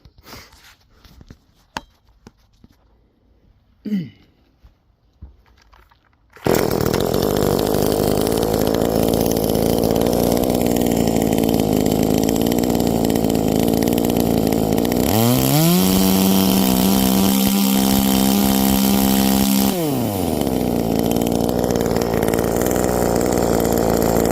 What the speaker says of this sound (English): for this thing to be revving at 12, I'm pretty impressed with that